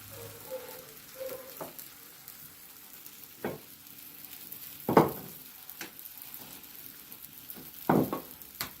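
Soft, low sizzling of Cape Malay roti frying in a pan, fairly quiet, broken by a few sharp knocks and clanks of utensils.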